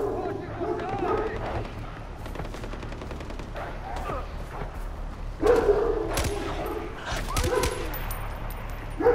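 Gunfire and a barking dog in the video game Far Cry 4, with several sharp bursts and short barks over steady game ambience while someone talks over them.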